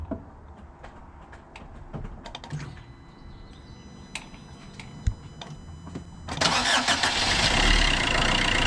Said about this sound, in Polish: po prostu odpalisz raz, zgasisz, odpalisz, zgasisz